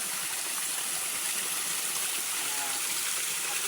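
Mountain waterfall, the steady broadband rush of falling water filling the scene at close range, constant and unbroken throughout with no voices over it.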